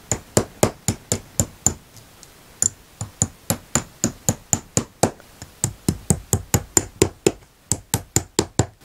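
Hammer tapping decorative upholstery nail studs into the arm of a high back chair, a long run of sharp, close metallic knocks in quick irregular clusters with brief pauses between groups.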